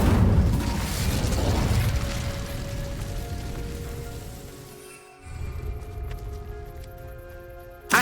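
Hogwarts Legacy's Incendio fire spell bursts out in a loud whooshing blast that rumbles and fades over several seconds, leaving quieter game ambience with a short thump at the end.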